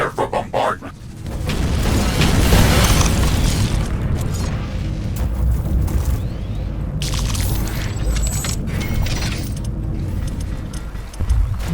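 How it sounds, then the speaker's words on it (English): Meteor swarm bombardment striking near a base in The Riftbreaker: heavy rumbling booms and crashing impacts rolling almost continuously, loud and close, with brief game voice lines among them. "My radar is tracking a meteor swarm. Its flight trajectory ends very close to our location."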